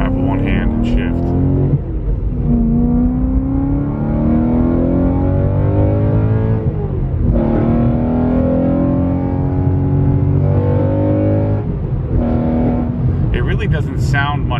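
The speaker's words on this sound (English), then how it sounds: "This car just sounds nasty." A loud car engine heard from inside while driving, revving up in long pulls with pitch rising and dropping between gear shifts, steady and close throughout with someone talking over it.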